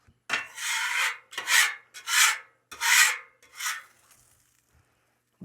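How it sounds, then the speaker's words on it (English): A metal scraper pushes food across a hot cheesesteak griddle in five separate rasping strokes, each a loud, bright scrape with short pauses between, close by and without any talking. "I scrape everything out to the back with my scraper."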